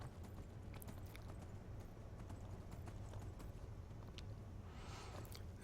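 Horse hooves clip-clopping in the game Skyrim, a quick steady rhythm of close hoofbeats running continuously over a low background hum, with no speech.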